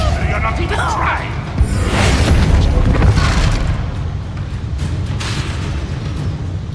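A booming Bombarda explosion spell bursts during combat in Hogwarts Legacy, a loud, rumbling blast with whooshing debris. A voice shouts over the noise.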